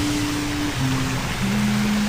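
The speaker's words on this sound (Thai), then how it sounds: "มันก็จะเป็น วิวน้ำตกนะก็ เป็นน้ำตกจำลองก็คือที่เขาทำขึ้นมานะ" Artificial waterfall at a hillside cafe in a Chiang Mai valley, a steady rushing hiss of falling water close by, with faint tonal hums beneath it.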